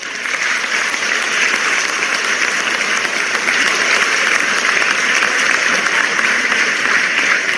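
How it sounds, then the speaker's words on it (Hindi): Sustained, loud applause from an audience at a foundation stone ceremony where the President inaugurates new health institution buildings, a dense steady clapping that fills the whole stretch without a break. "आइए जोरदार तालियों से हम और आप इस पुनीत कार्य का हिस्सा बने।"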